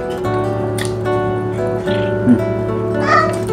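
A cat meows a few times, faint and brief, beneath a steady hum of kitchen and farm background noise with light voices around.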